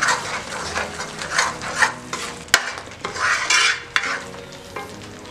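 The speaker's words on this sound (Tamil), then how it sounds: "இஞ்சி பூண்டோட பச்சை வாசமும் இந்த வெங்காயத்தோட பச்சை வாசமும் போகிற அளவுக்கு நல்லா வதக்கிடலாம்" Onion, ginger-garlic and tomato paste sauté in a pan, with a constant sizzle under rhythmic, close scraping strokes of a spoon and one sharp metallic clack midway.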